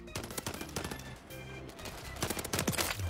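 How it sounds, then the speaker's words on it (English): Rapid automatic gunfire in the Call of Duty Modern Warfare 3 beta, a dense run of close, loud shots with overlapping game effects and no pauses. "Shooting my teammates so much."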